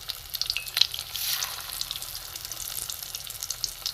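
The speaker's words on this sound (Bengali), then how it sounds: "কম আছে, আস্তে আস্তে ভাজতে হবে, কারণ ভেতরে কাঁচা চিংড়ি মাছটা আছে, ওটা সেদ্ধ হবে।" Prawn kebab balls fry gently in a pan with a quiet, steady bubbling sizzle and a few faint clicks near the start, with no voices.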